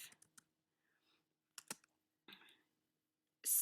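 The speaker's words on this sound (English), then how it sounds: "then you would type in Jane and Jeff" Someone types on a computer keyboard, entering names onto a presentation slide: sparse, quiet key clicks in short clusters, ending with a louder burst of noise.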